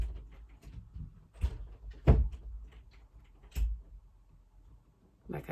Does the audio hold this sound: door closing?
yes